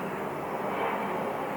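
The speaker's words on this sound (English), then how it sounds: "maybe not an airplane, sorry, a helicopter" A helicopter flies overhead, heard as a steady, even broadband rumble that holds for the whole short stretch with no voices over it.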